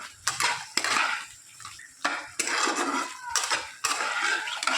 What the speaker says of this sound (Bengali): এর মধ্যে ভিজে রাখা পনির আর আলুর টুকরোগুলো দিয়ে দিলাম, দিয়ে ভালো করে মিশিয়ে নেব